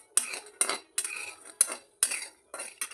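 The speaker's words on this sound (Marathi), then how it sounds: "3 मिनटं बारीक आचेवर" A spoon scrapes and knocks against a pan as dry fruits roast over low heat for laddoos, with about six irregular clinks and stirring strokes, close and soft.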